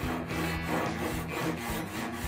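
A Japanese ryoba pull saw rubs and rasps across wood in a crosscut, its blade marking the surface without biting in, making a continuous close scratchy sawing noise in repeated short strokes.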